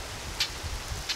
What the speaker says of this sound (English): There's a ton of rain right now.